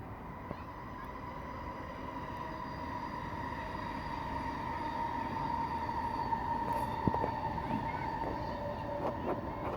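Trains pass on a Sunday, a low, steady rumble with a sustained tonal whine that grows slightly louder, carrying from a moderate distance, with faint clicks over the top.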